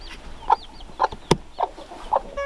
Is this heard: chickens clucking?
yes